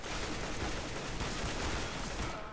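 Fast, dense bursts of AK rifle fire in Counter-Strike: GO form a continuous rattling volley at moderate loudness, with no speech over it.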